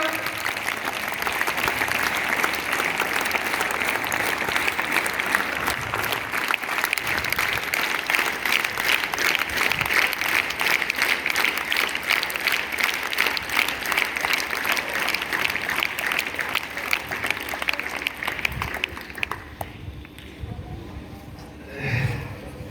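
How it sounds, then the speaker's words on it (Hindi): Applause from a crowd at a rally in Haryana runs loud and continuous for about twenty seconds, a dense wash of clapping that thins out and drops away near the end. "तालियां"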